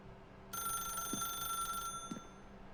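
A telephone rings in The Stanley Parable video game, one faint, bright electronic ring lasting over a second, with a short second burst after it.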